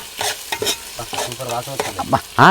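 Ginger garlic paste is stirred into frying chicken, with a spoon scraping and clattering in irregular bursts over a soft sizzle close by, ending in a louder burst.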